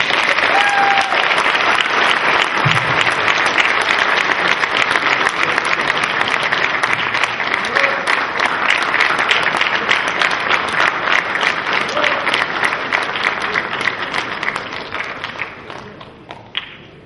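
A large audience at a men's gathering gives a long, loud round of applause, sustained dense clapping for most of its length before tapering off to a few last claps.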